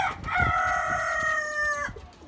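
A local country rooster kept in a rooftop garden gives one long, loud, drawn-out crow lasting over a second, with faint yard sounds around it.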